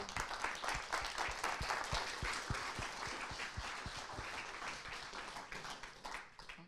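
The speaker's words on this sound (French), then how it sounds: "Je crois qu'on peut t'applaudir bien fort." An audience at the close of a conference lecture on environmental DNA and nature protection gives a round of applause: dense, sharp clapping, fairly faint and distant, holding steady for several seconds before tapering slightly.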